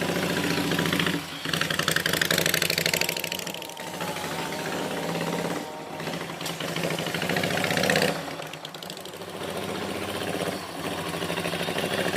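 A modified 2013 Ruby V-Twin motorcycle styled as an HD Ultra Classic idles with a rapid, uneven V-twin throb that dips and swells a few times but runs continuously.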